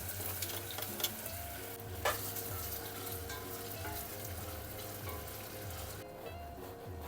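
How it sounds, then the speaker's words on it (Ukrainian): Onion frying in rendered pork fat (salo) in a pan for a Slovak cabbage dish, a steady close crackling sizzle that continues throughout with no talking. "сало в нас піджарилося вже трошки і будемо цибульку піджарюємо"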